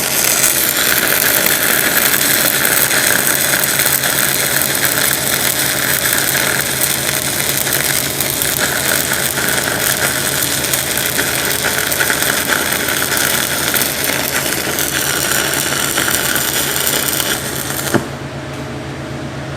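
MIG welding on a 1/4 inch plate with no bevel using a Yeswelder Firstess DP200 multiprocess welder, a steady, loud, continuous crackling hiss lasting almost the whole clip before it stops.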